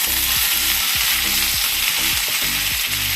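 Veli cheera leaves for a thoran, a Kerala stir-fry, hit hot oil in a pan and sizzle loudly and steadily throughout, a close, dense frying hiss with no talking.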